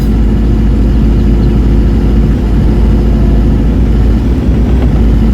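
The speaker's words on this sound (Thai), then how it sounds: "อันนี้เร่งเครื่องแล้วนะครับ แต่ว่าทำไมรถยังไม่แยกวะ" A Kobe excavator's engine revs in Farming Simulator 22, a loud, steady low drone with constant mechanical rumble, heard close and alone.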